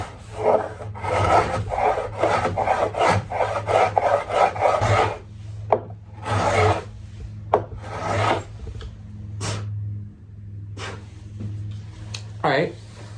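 Hand plane shaving a clamped MDF board, a series of dry rasping strokes in quick succession, then a few separate scrapes with pauses between, close up with no talking.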